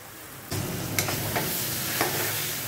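Steady close sizzling of a tempering of mashed potato and peas frying in a pan, with a few scraping stirs of a utensil against the pan.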